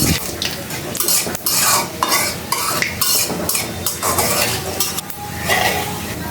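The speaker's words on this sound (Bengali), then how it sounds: "কড়াইতে তেল পাঁচফোড়ন শুকনো মরিচ দিয়ে দিলাম" Oil with five-spice and dried chillies sizzles loudly in a wok, a dense, continuous crackle broken by repeated scrapes and clinks of a metal spatula stirring against the pan.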